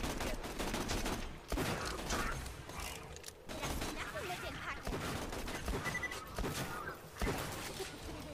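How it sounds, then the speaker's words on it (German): Gunfire in the video game Borderlands 2, bursts of shots and clanking weapon mechanisms repeating across several seconds, mixed with game effects and players talking over them. "Ich schieße und dann fliegt der Schuss voll daneben."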